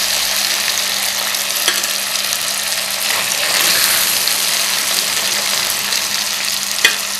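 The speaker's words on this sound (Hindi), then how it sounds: "जैसे ही फ़िश जो है वो फ्राई हो जाए अच्छी तरह" Fish pieces fry in hot oil for masala fish, giving a loud, dense, continuous sizzle close by, with an occasional faint clink and no voices.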